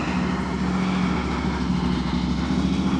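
A Yamaha Revzone motorcycle fitted with a silencer idles with a steady, low, even engine drone that holds throughout, close by and with no talking.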